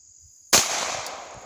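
A single sharp crack from a .22 LR pistol, a Ruger Mark II or Mark IV, fired outdoors, followed by a short decaying ring over quiet insect chirps.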